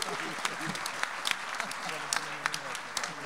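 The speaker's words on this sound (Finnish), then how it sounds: "Aplodit sille." Audience applause at a Finnish entrepreneurship event, a steady patter of many hands clapping at moderate distance, with a voice speaking over it.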